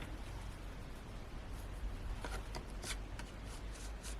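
Cardstock for cardmaking is sliced on a trimmer, producing a faint, steady scraping and rasping, with a few brief, sharper zips of the blade through the card over a soft background hiss, close by and quiet.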